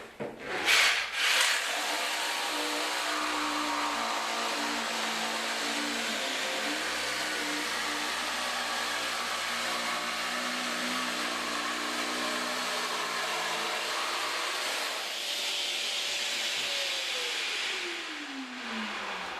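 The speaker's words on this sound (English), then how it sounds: "So now I can cut this laminate material." A Festool PSB 420 EBQ PLUS jigsaw cutting through laminate, a steady loud buzzing saw drone running for most of the time, then winding down as the motor stops.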